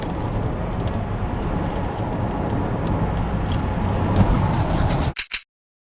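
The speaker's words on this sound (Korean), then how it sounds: "딱 밟으면 이 뒤에서 그 모터 윙 돌아갈 때 윙 하는 굉장한 고주파음이 있거든요" A new Tesla Model X Long Range accelerates, its rear electric motor giving off a thin, steady high-pitched whine over loud, constant road and cabin rumble. The sound ends abruptly with a few brief knocks near the end.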